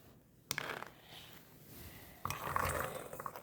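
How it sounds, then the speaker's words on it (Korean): Beans are stir-fried in a frying pan, with two sharp metallic clinks and scraping clatters of utensil against pan standing out over a low background, close and fairly quiet, without any speech. "후라이팬도 똑같이 콩을 볶을 거야"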